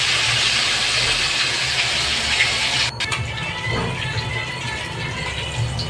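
Fish fry in hot oil in a wok, a loud, steady, close hiss of sizzling that runs throughout the clip and dips briefly partway through.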